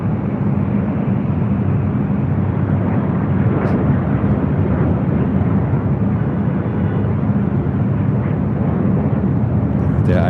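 Iberia airliner taxiing at LAX toward Tom Bradley terminal, a heavy low engine rumble that stays even throughout, fairly loud, with a few brief clicks and no clear talk.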